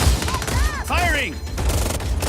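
Gunfire in Just Cause 4 as a dense rapid fusillade of shots under a loud game soundscape, with falling whistling tones mixed in.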